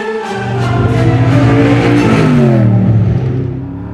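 A 650hp Noble M600 supercar engine revs hard and accelerates, its loud, close snarl climbing and dropping in pitch through gear changes before easing off.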